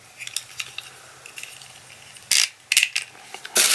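A WickedHD G1W dash cam's windshield suction mount is handled up close, producing small plastic clicks and rattles and then a few loud bursts of crinkling packaging.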